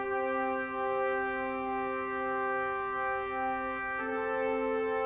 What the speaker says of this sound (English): Now have a listen to this Full Brass Plus,